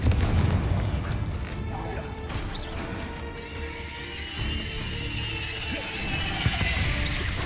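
A Confringo spell blast in the video game Hogwarts Legacy: a loud, crashing explosion opens a dense, sustained stretch of booming and smashing debris, with continuous rumble and scattered impacts throughout.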